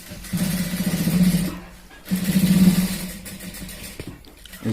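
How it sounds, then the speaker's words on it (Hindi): A sewing machine stitching the seat seam of a pair of trousers, running in two steady bursts of rapid whirring with a short pause between, fairly close and without talk. "और इसकी सिलाई करेंगे, इसको बरोबर में रख के इस तरह से"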